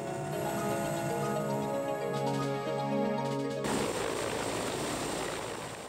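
A helicopter flies over the lagoons of the Maldives, its rotor and engine giving a steady whirring drone with faint ticking, shifting in tone partway through as it passes, with no voices.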